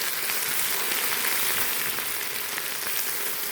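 Greens drop into a pan of frying chopped onion and garlic, giving a steady, close, loud hiss and crackle of sizzling oil that continues without pause.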